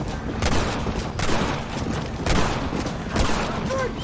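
Gunfire in the Red Dead Redemption western video game, several sharp reports spaced about a second apart over a dense bed of game sound.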